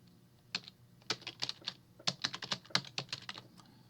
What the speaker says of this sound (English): if you type in smAsho.org